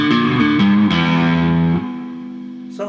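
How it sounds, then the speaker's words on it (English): An overdriven electric guitar plays a lick through an amp with heavy reverb, its sustained notes shifting in pitch and then ringing out in a long, washy tail that fades slowly. "Too much reverb and it gets a little bit sort of rock and rolly."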